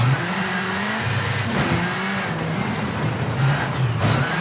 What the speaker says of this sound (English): Trying to use that handbrake to get the rear end round this corner.